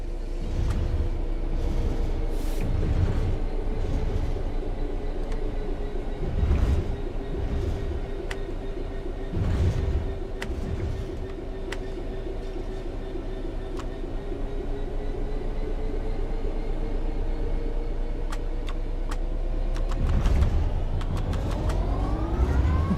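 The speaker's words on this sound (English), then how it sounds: "The train will then coast on level ground, and the train will only slow down very gradually" Locomotive coasting on level track in a train simulator game, a steady rumbling engine drone with rhythmic low thumps of wheels over rail joints, rising in pitch near the end.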